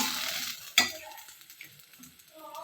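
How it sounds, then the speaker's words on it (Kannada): Hot tempering stirred into a bowl of chutney: a sizzle that fades quickly, a sharp clink of a spoon against the dish, then quiet scraping and stirring nearby. "ಈಗ ಒಗ್ಗರಣೆನ ಈ ಚಟ್ನಿಗೆ ಮಿಕ್ಸ್ ಮಾಡ್ತಾ ಇದ್ದೀನಿ"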